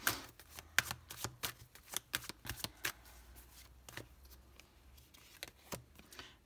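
Tarot cards being laid down and handled during a French tarot reading, giving a series of sharp, close card slaps and flicks in an irregular rhythm with soft shuffling between them, alone and without talk.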